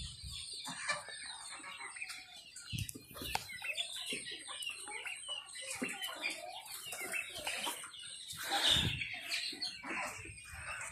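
Turkeys at a poultry farm clucking and gobbling, with several birds calling in irregular overlapping bursts at close to moderate distance, joined by a faint voice now and then.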